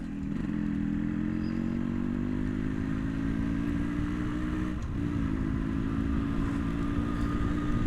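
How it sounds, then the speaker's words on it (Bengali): An RX motorcycle, an old-style bike from the 1980s–90s, roars steadily while being ridden in the rain, a constant close engine drone with a brief dip near the middle. "এমন কোনো বাইক লাভার নাই যে এই আর এক্সের গর্জন সে পছন্দ করে না"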